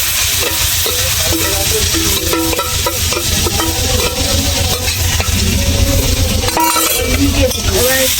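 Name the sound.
mutton poured into hot oil and sizzling in pan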